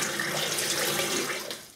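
Tap water runs steadily into a sink to rinse a shaving razor, a close, continuous hiss with no voices.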